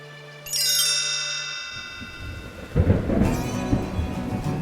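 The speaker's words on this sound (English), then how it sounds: "it started to rain" A rainstorm with thunder: a low rumble of thunder swells in, then heavy rain patters loudly on surfaces, with a bright chiming tone sounding over the start and no talking.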